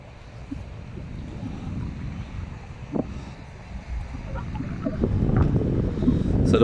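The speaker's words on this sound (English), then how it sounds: "It's a bit rainy, a bit windy." Gusty wind rumbles against the microphone outdoors in a car park on a rainy, windy day, a low steady blustering that builds louder toward the end.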